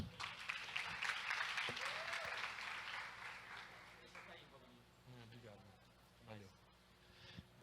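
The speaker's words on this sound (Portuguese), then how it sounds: "Uma salva de palmas para o Marco." Audience clapping during a church sermon in Portuguese, dense applause filling the first few seconds and then thinning out as a voice resumes talking over it.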